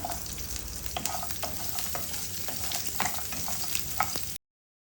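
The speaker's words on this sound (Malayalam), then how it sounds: "ഇതിലോട്ട് അരിഞ്ഞു വെച്ചിട്ടുള്ള കുറച്ച് ചെറുള്ളി ചേർത്ത് കൊടുത്ത് അതും നന്നായിട്ട് മൂപ്പിച്ചെടുക്കുവാണ്" Chopped shallots sautéing with mustard seeds in oil in a pan, a dense continuous sizzle with scattered crackles and pops, close and fairly loud.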